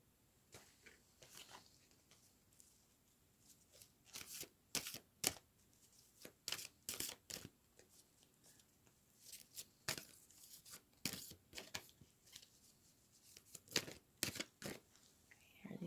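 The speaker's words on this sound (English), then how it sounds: "I'm going to pull one more card from the Dragonfae." Tarot cards from the Dragonfae deck being shuffled and drawn, giving bursts of crisp riffling and slapping close by, spread irregularly over the stretch with quiet pauses between.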